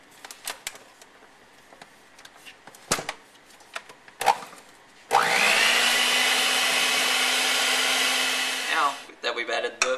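An electric hand mixer blends red velvet cake batter made with cake flour. Its loud, steady motor whir runs for about four seconds after a few light knocks, then cuts off into scattered clatter.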